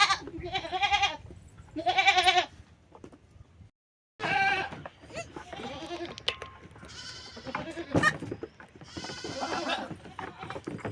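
A herd of goats with young kids bleats repeatedly as it is driven along, close calls in separate bursts with a short silent gap, over background rustle and light movement.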